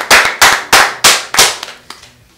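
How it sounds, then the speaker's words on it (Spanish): Applause from a small group called for by a host during a Spanish-language prank show chat, coming as about five sharp loud bursts of clapping that fade out quickly. "Un aplauso."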